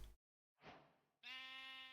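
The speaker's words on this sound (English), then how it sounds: "I know it's the sheep" A sheep in the Minecraft video game gives a short bleat, then after a brief pause a longer, clear, wavering bleat, close and alone.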